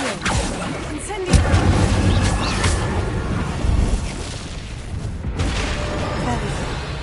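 A fire spell cast in the Hogwarts Legacy wizarding video game erupts in a loud, sustained roar of flame with booming, crackling bursts throughout, standing alone without talk.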